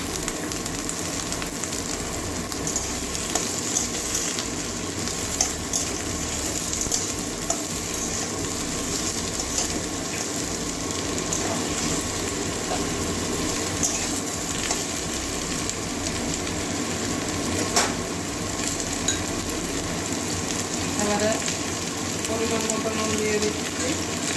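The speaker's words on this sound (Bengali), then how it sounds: "এবারে আলু আর দিয়ে দেবো আলু ডাঁটা ভাজিনি এমনি দিয়ে দিচ্ছি একসঙ্গে দুটো দিয়ে দেবো" Potatoes and drumstick stalks fry together in a pan with a steady, rain-like sizzle and occasional stirring clinks lasting the whole stretch, close and moderately loud with no clear talking.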